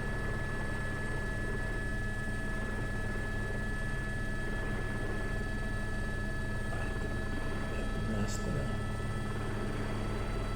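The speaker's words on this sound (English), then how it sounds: "Now I have to reposition the helicopter to the side to the right now to be able to pull it out." A helicopter hovers close overhead while pulling a pole out from between power lines, its steady rotor and engine drone loud and unbroken throughout.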